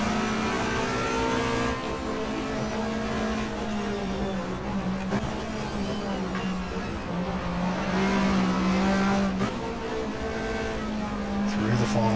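Touring race cars from the 1994 Australian Manufacturers Championship roar through the final corner at Eastern Creek, a continuous loud engine drone with shifting pitch as cars accelerate, beneath commentary.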